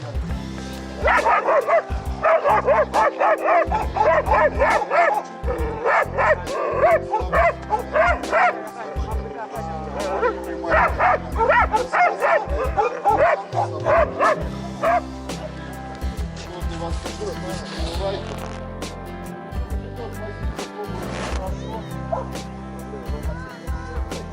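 Yakutian Laika dogs bark and yip in repeated bursts, with some whimpering, close and fairly loud, while someone talks over them.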